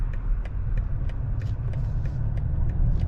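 Latest-generation BMW X6 30d SUV with 286 horsepower cruising on the road, a steady low rumble of tyres and engine with faint regular thumps from the road surface, heard from inside the cabin.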